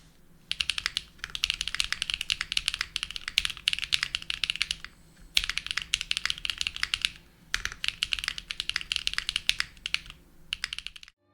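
Rapid, crisp clacking of a mechanical keyboard being typed on, in fast bursts separated by brief pauses, close up with no talking.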